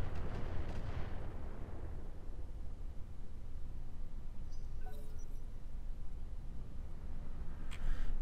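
Mortar fire from a light mortar carrier in the Roguetech mech game: heavy booming blasts open the clip, then a sustained low rumble continues with a few sharp metallic clinks and a faint high burst near the end.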